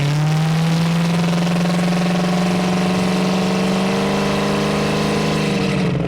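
A 1966 Ford Mustang's exhaust drones steadily from inside the car while driving, with the engine pitch rising slightly toward the end and no talking.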